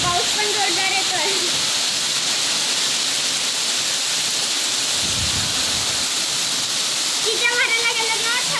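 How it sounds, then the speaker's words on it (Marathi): Heavy rain pours down in a loud, steady wash that fills the whole stretch, with voices talking briefly at the start and again near the end. "पाऊस पण जोरदार येतोय."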